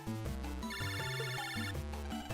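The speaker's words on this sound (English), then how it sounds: "Lan, you've got a phone call." A chiptune phone ring chirps in Megaman Battle Network 3, a bright, repeating melodic electronic tone, loud and alone.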